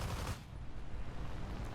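Aircraft cannon and machine guns fire in War Thunder, flying a Soviet plane at battle rating 3.0, a fairly faint, continuous rapid rattle of shots blending into a dense roar for under two seconds.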